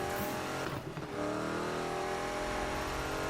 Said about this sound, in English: I'm curious on why Ken blocks sound so much different than my car